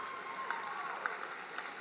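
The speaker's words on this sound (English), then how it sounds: "That deserves applause." Audience applause at a University of Memphis law school commencement ceremony, a steady, moderately faint wash of many hands clapping throughout.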